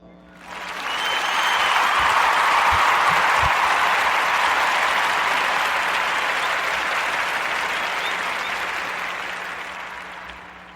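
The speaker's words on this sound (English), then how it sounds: "clap it up for Jamie Foxx and clap it up for Marty Marr Lawrence" A studio audience applauds for around ten seconds, a dense wash of clapping that swells quickly, holds steady, then slowly thins toward the end.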